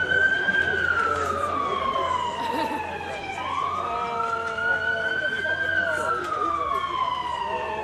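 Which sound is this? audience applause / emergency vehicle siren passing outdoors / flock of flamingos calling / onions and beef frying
emergency vehicle siren passing outdoors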